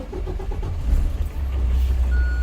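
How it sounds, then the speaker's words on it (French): A vehicle engine starts up again during a cab safety check, with a steady low rumble that builds to a stronger idle. "On peut redémarrer notre véhicule."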